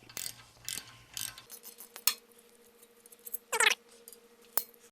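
A ratchet loosening a front brake bolt on an MK7 GTI, quick bursts of clicking pawl teeth interrupted by pauses and a few sharp metallic clacks, close and clear without talk.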